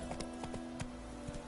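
Roach the horse trots along in The Witcher, a quiet run of hollow clip-clop hoof beats in an uneven rhythm over a steady low game hum.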